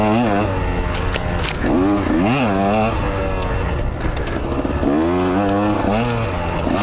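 Up close, a KTM 125 XC dirt bike engine screams and bogs on a steep trail, the pitch rising and falling in quick runs as the rider shifts down and back up repeatedly.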